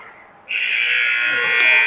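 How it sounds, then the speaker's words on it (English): A loud, steady electronic buzzer ends the period at an ice hockey game, sounding abruptly and holding for over a second over faint arena noise. "And Cam with the shot at the buzzer."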